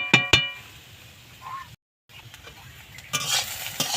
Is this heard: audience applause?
no